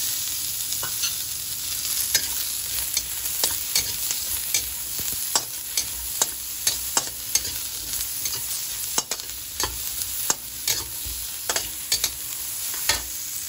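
Onion sautés in a little cooking oil, a soft sizzle broken by frequent sharp clicks and scrapes of a utensil stirring against the pan, close and rhythmic.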